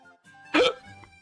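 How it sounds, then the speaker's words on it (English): A single sharp hiccup bursts out close to the microphone during a quiet moment of a drawing stream, standing alone against a faint background hum. "Ah, hiccups."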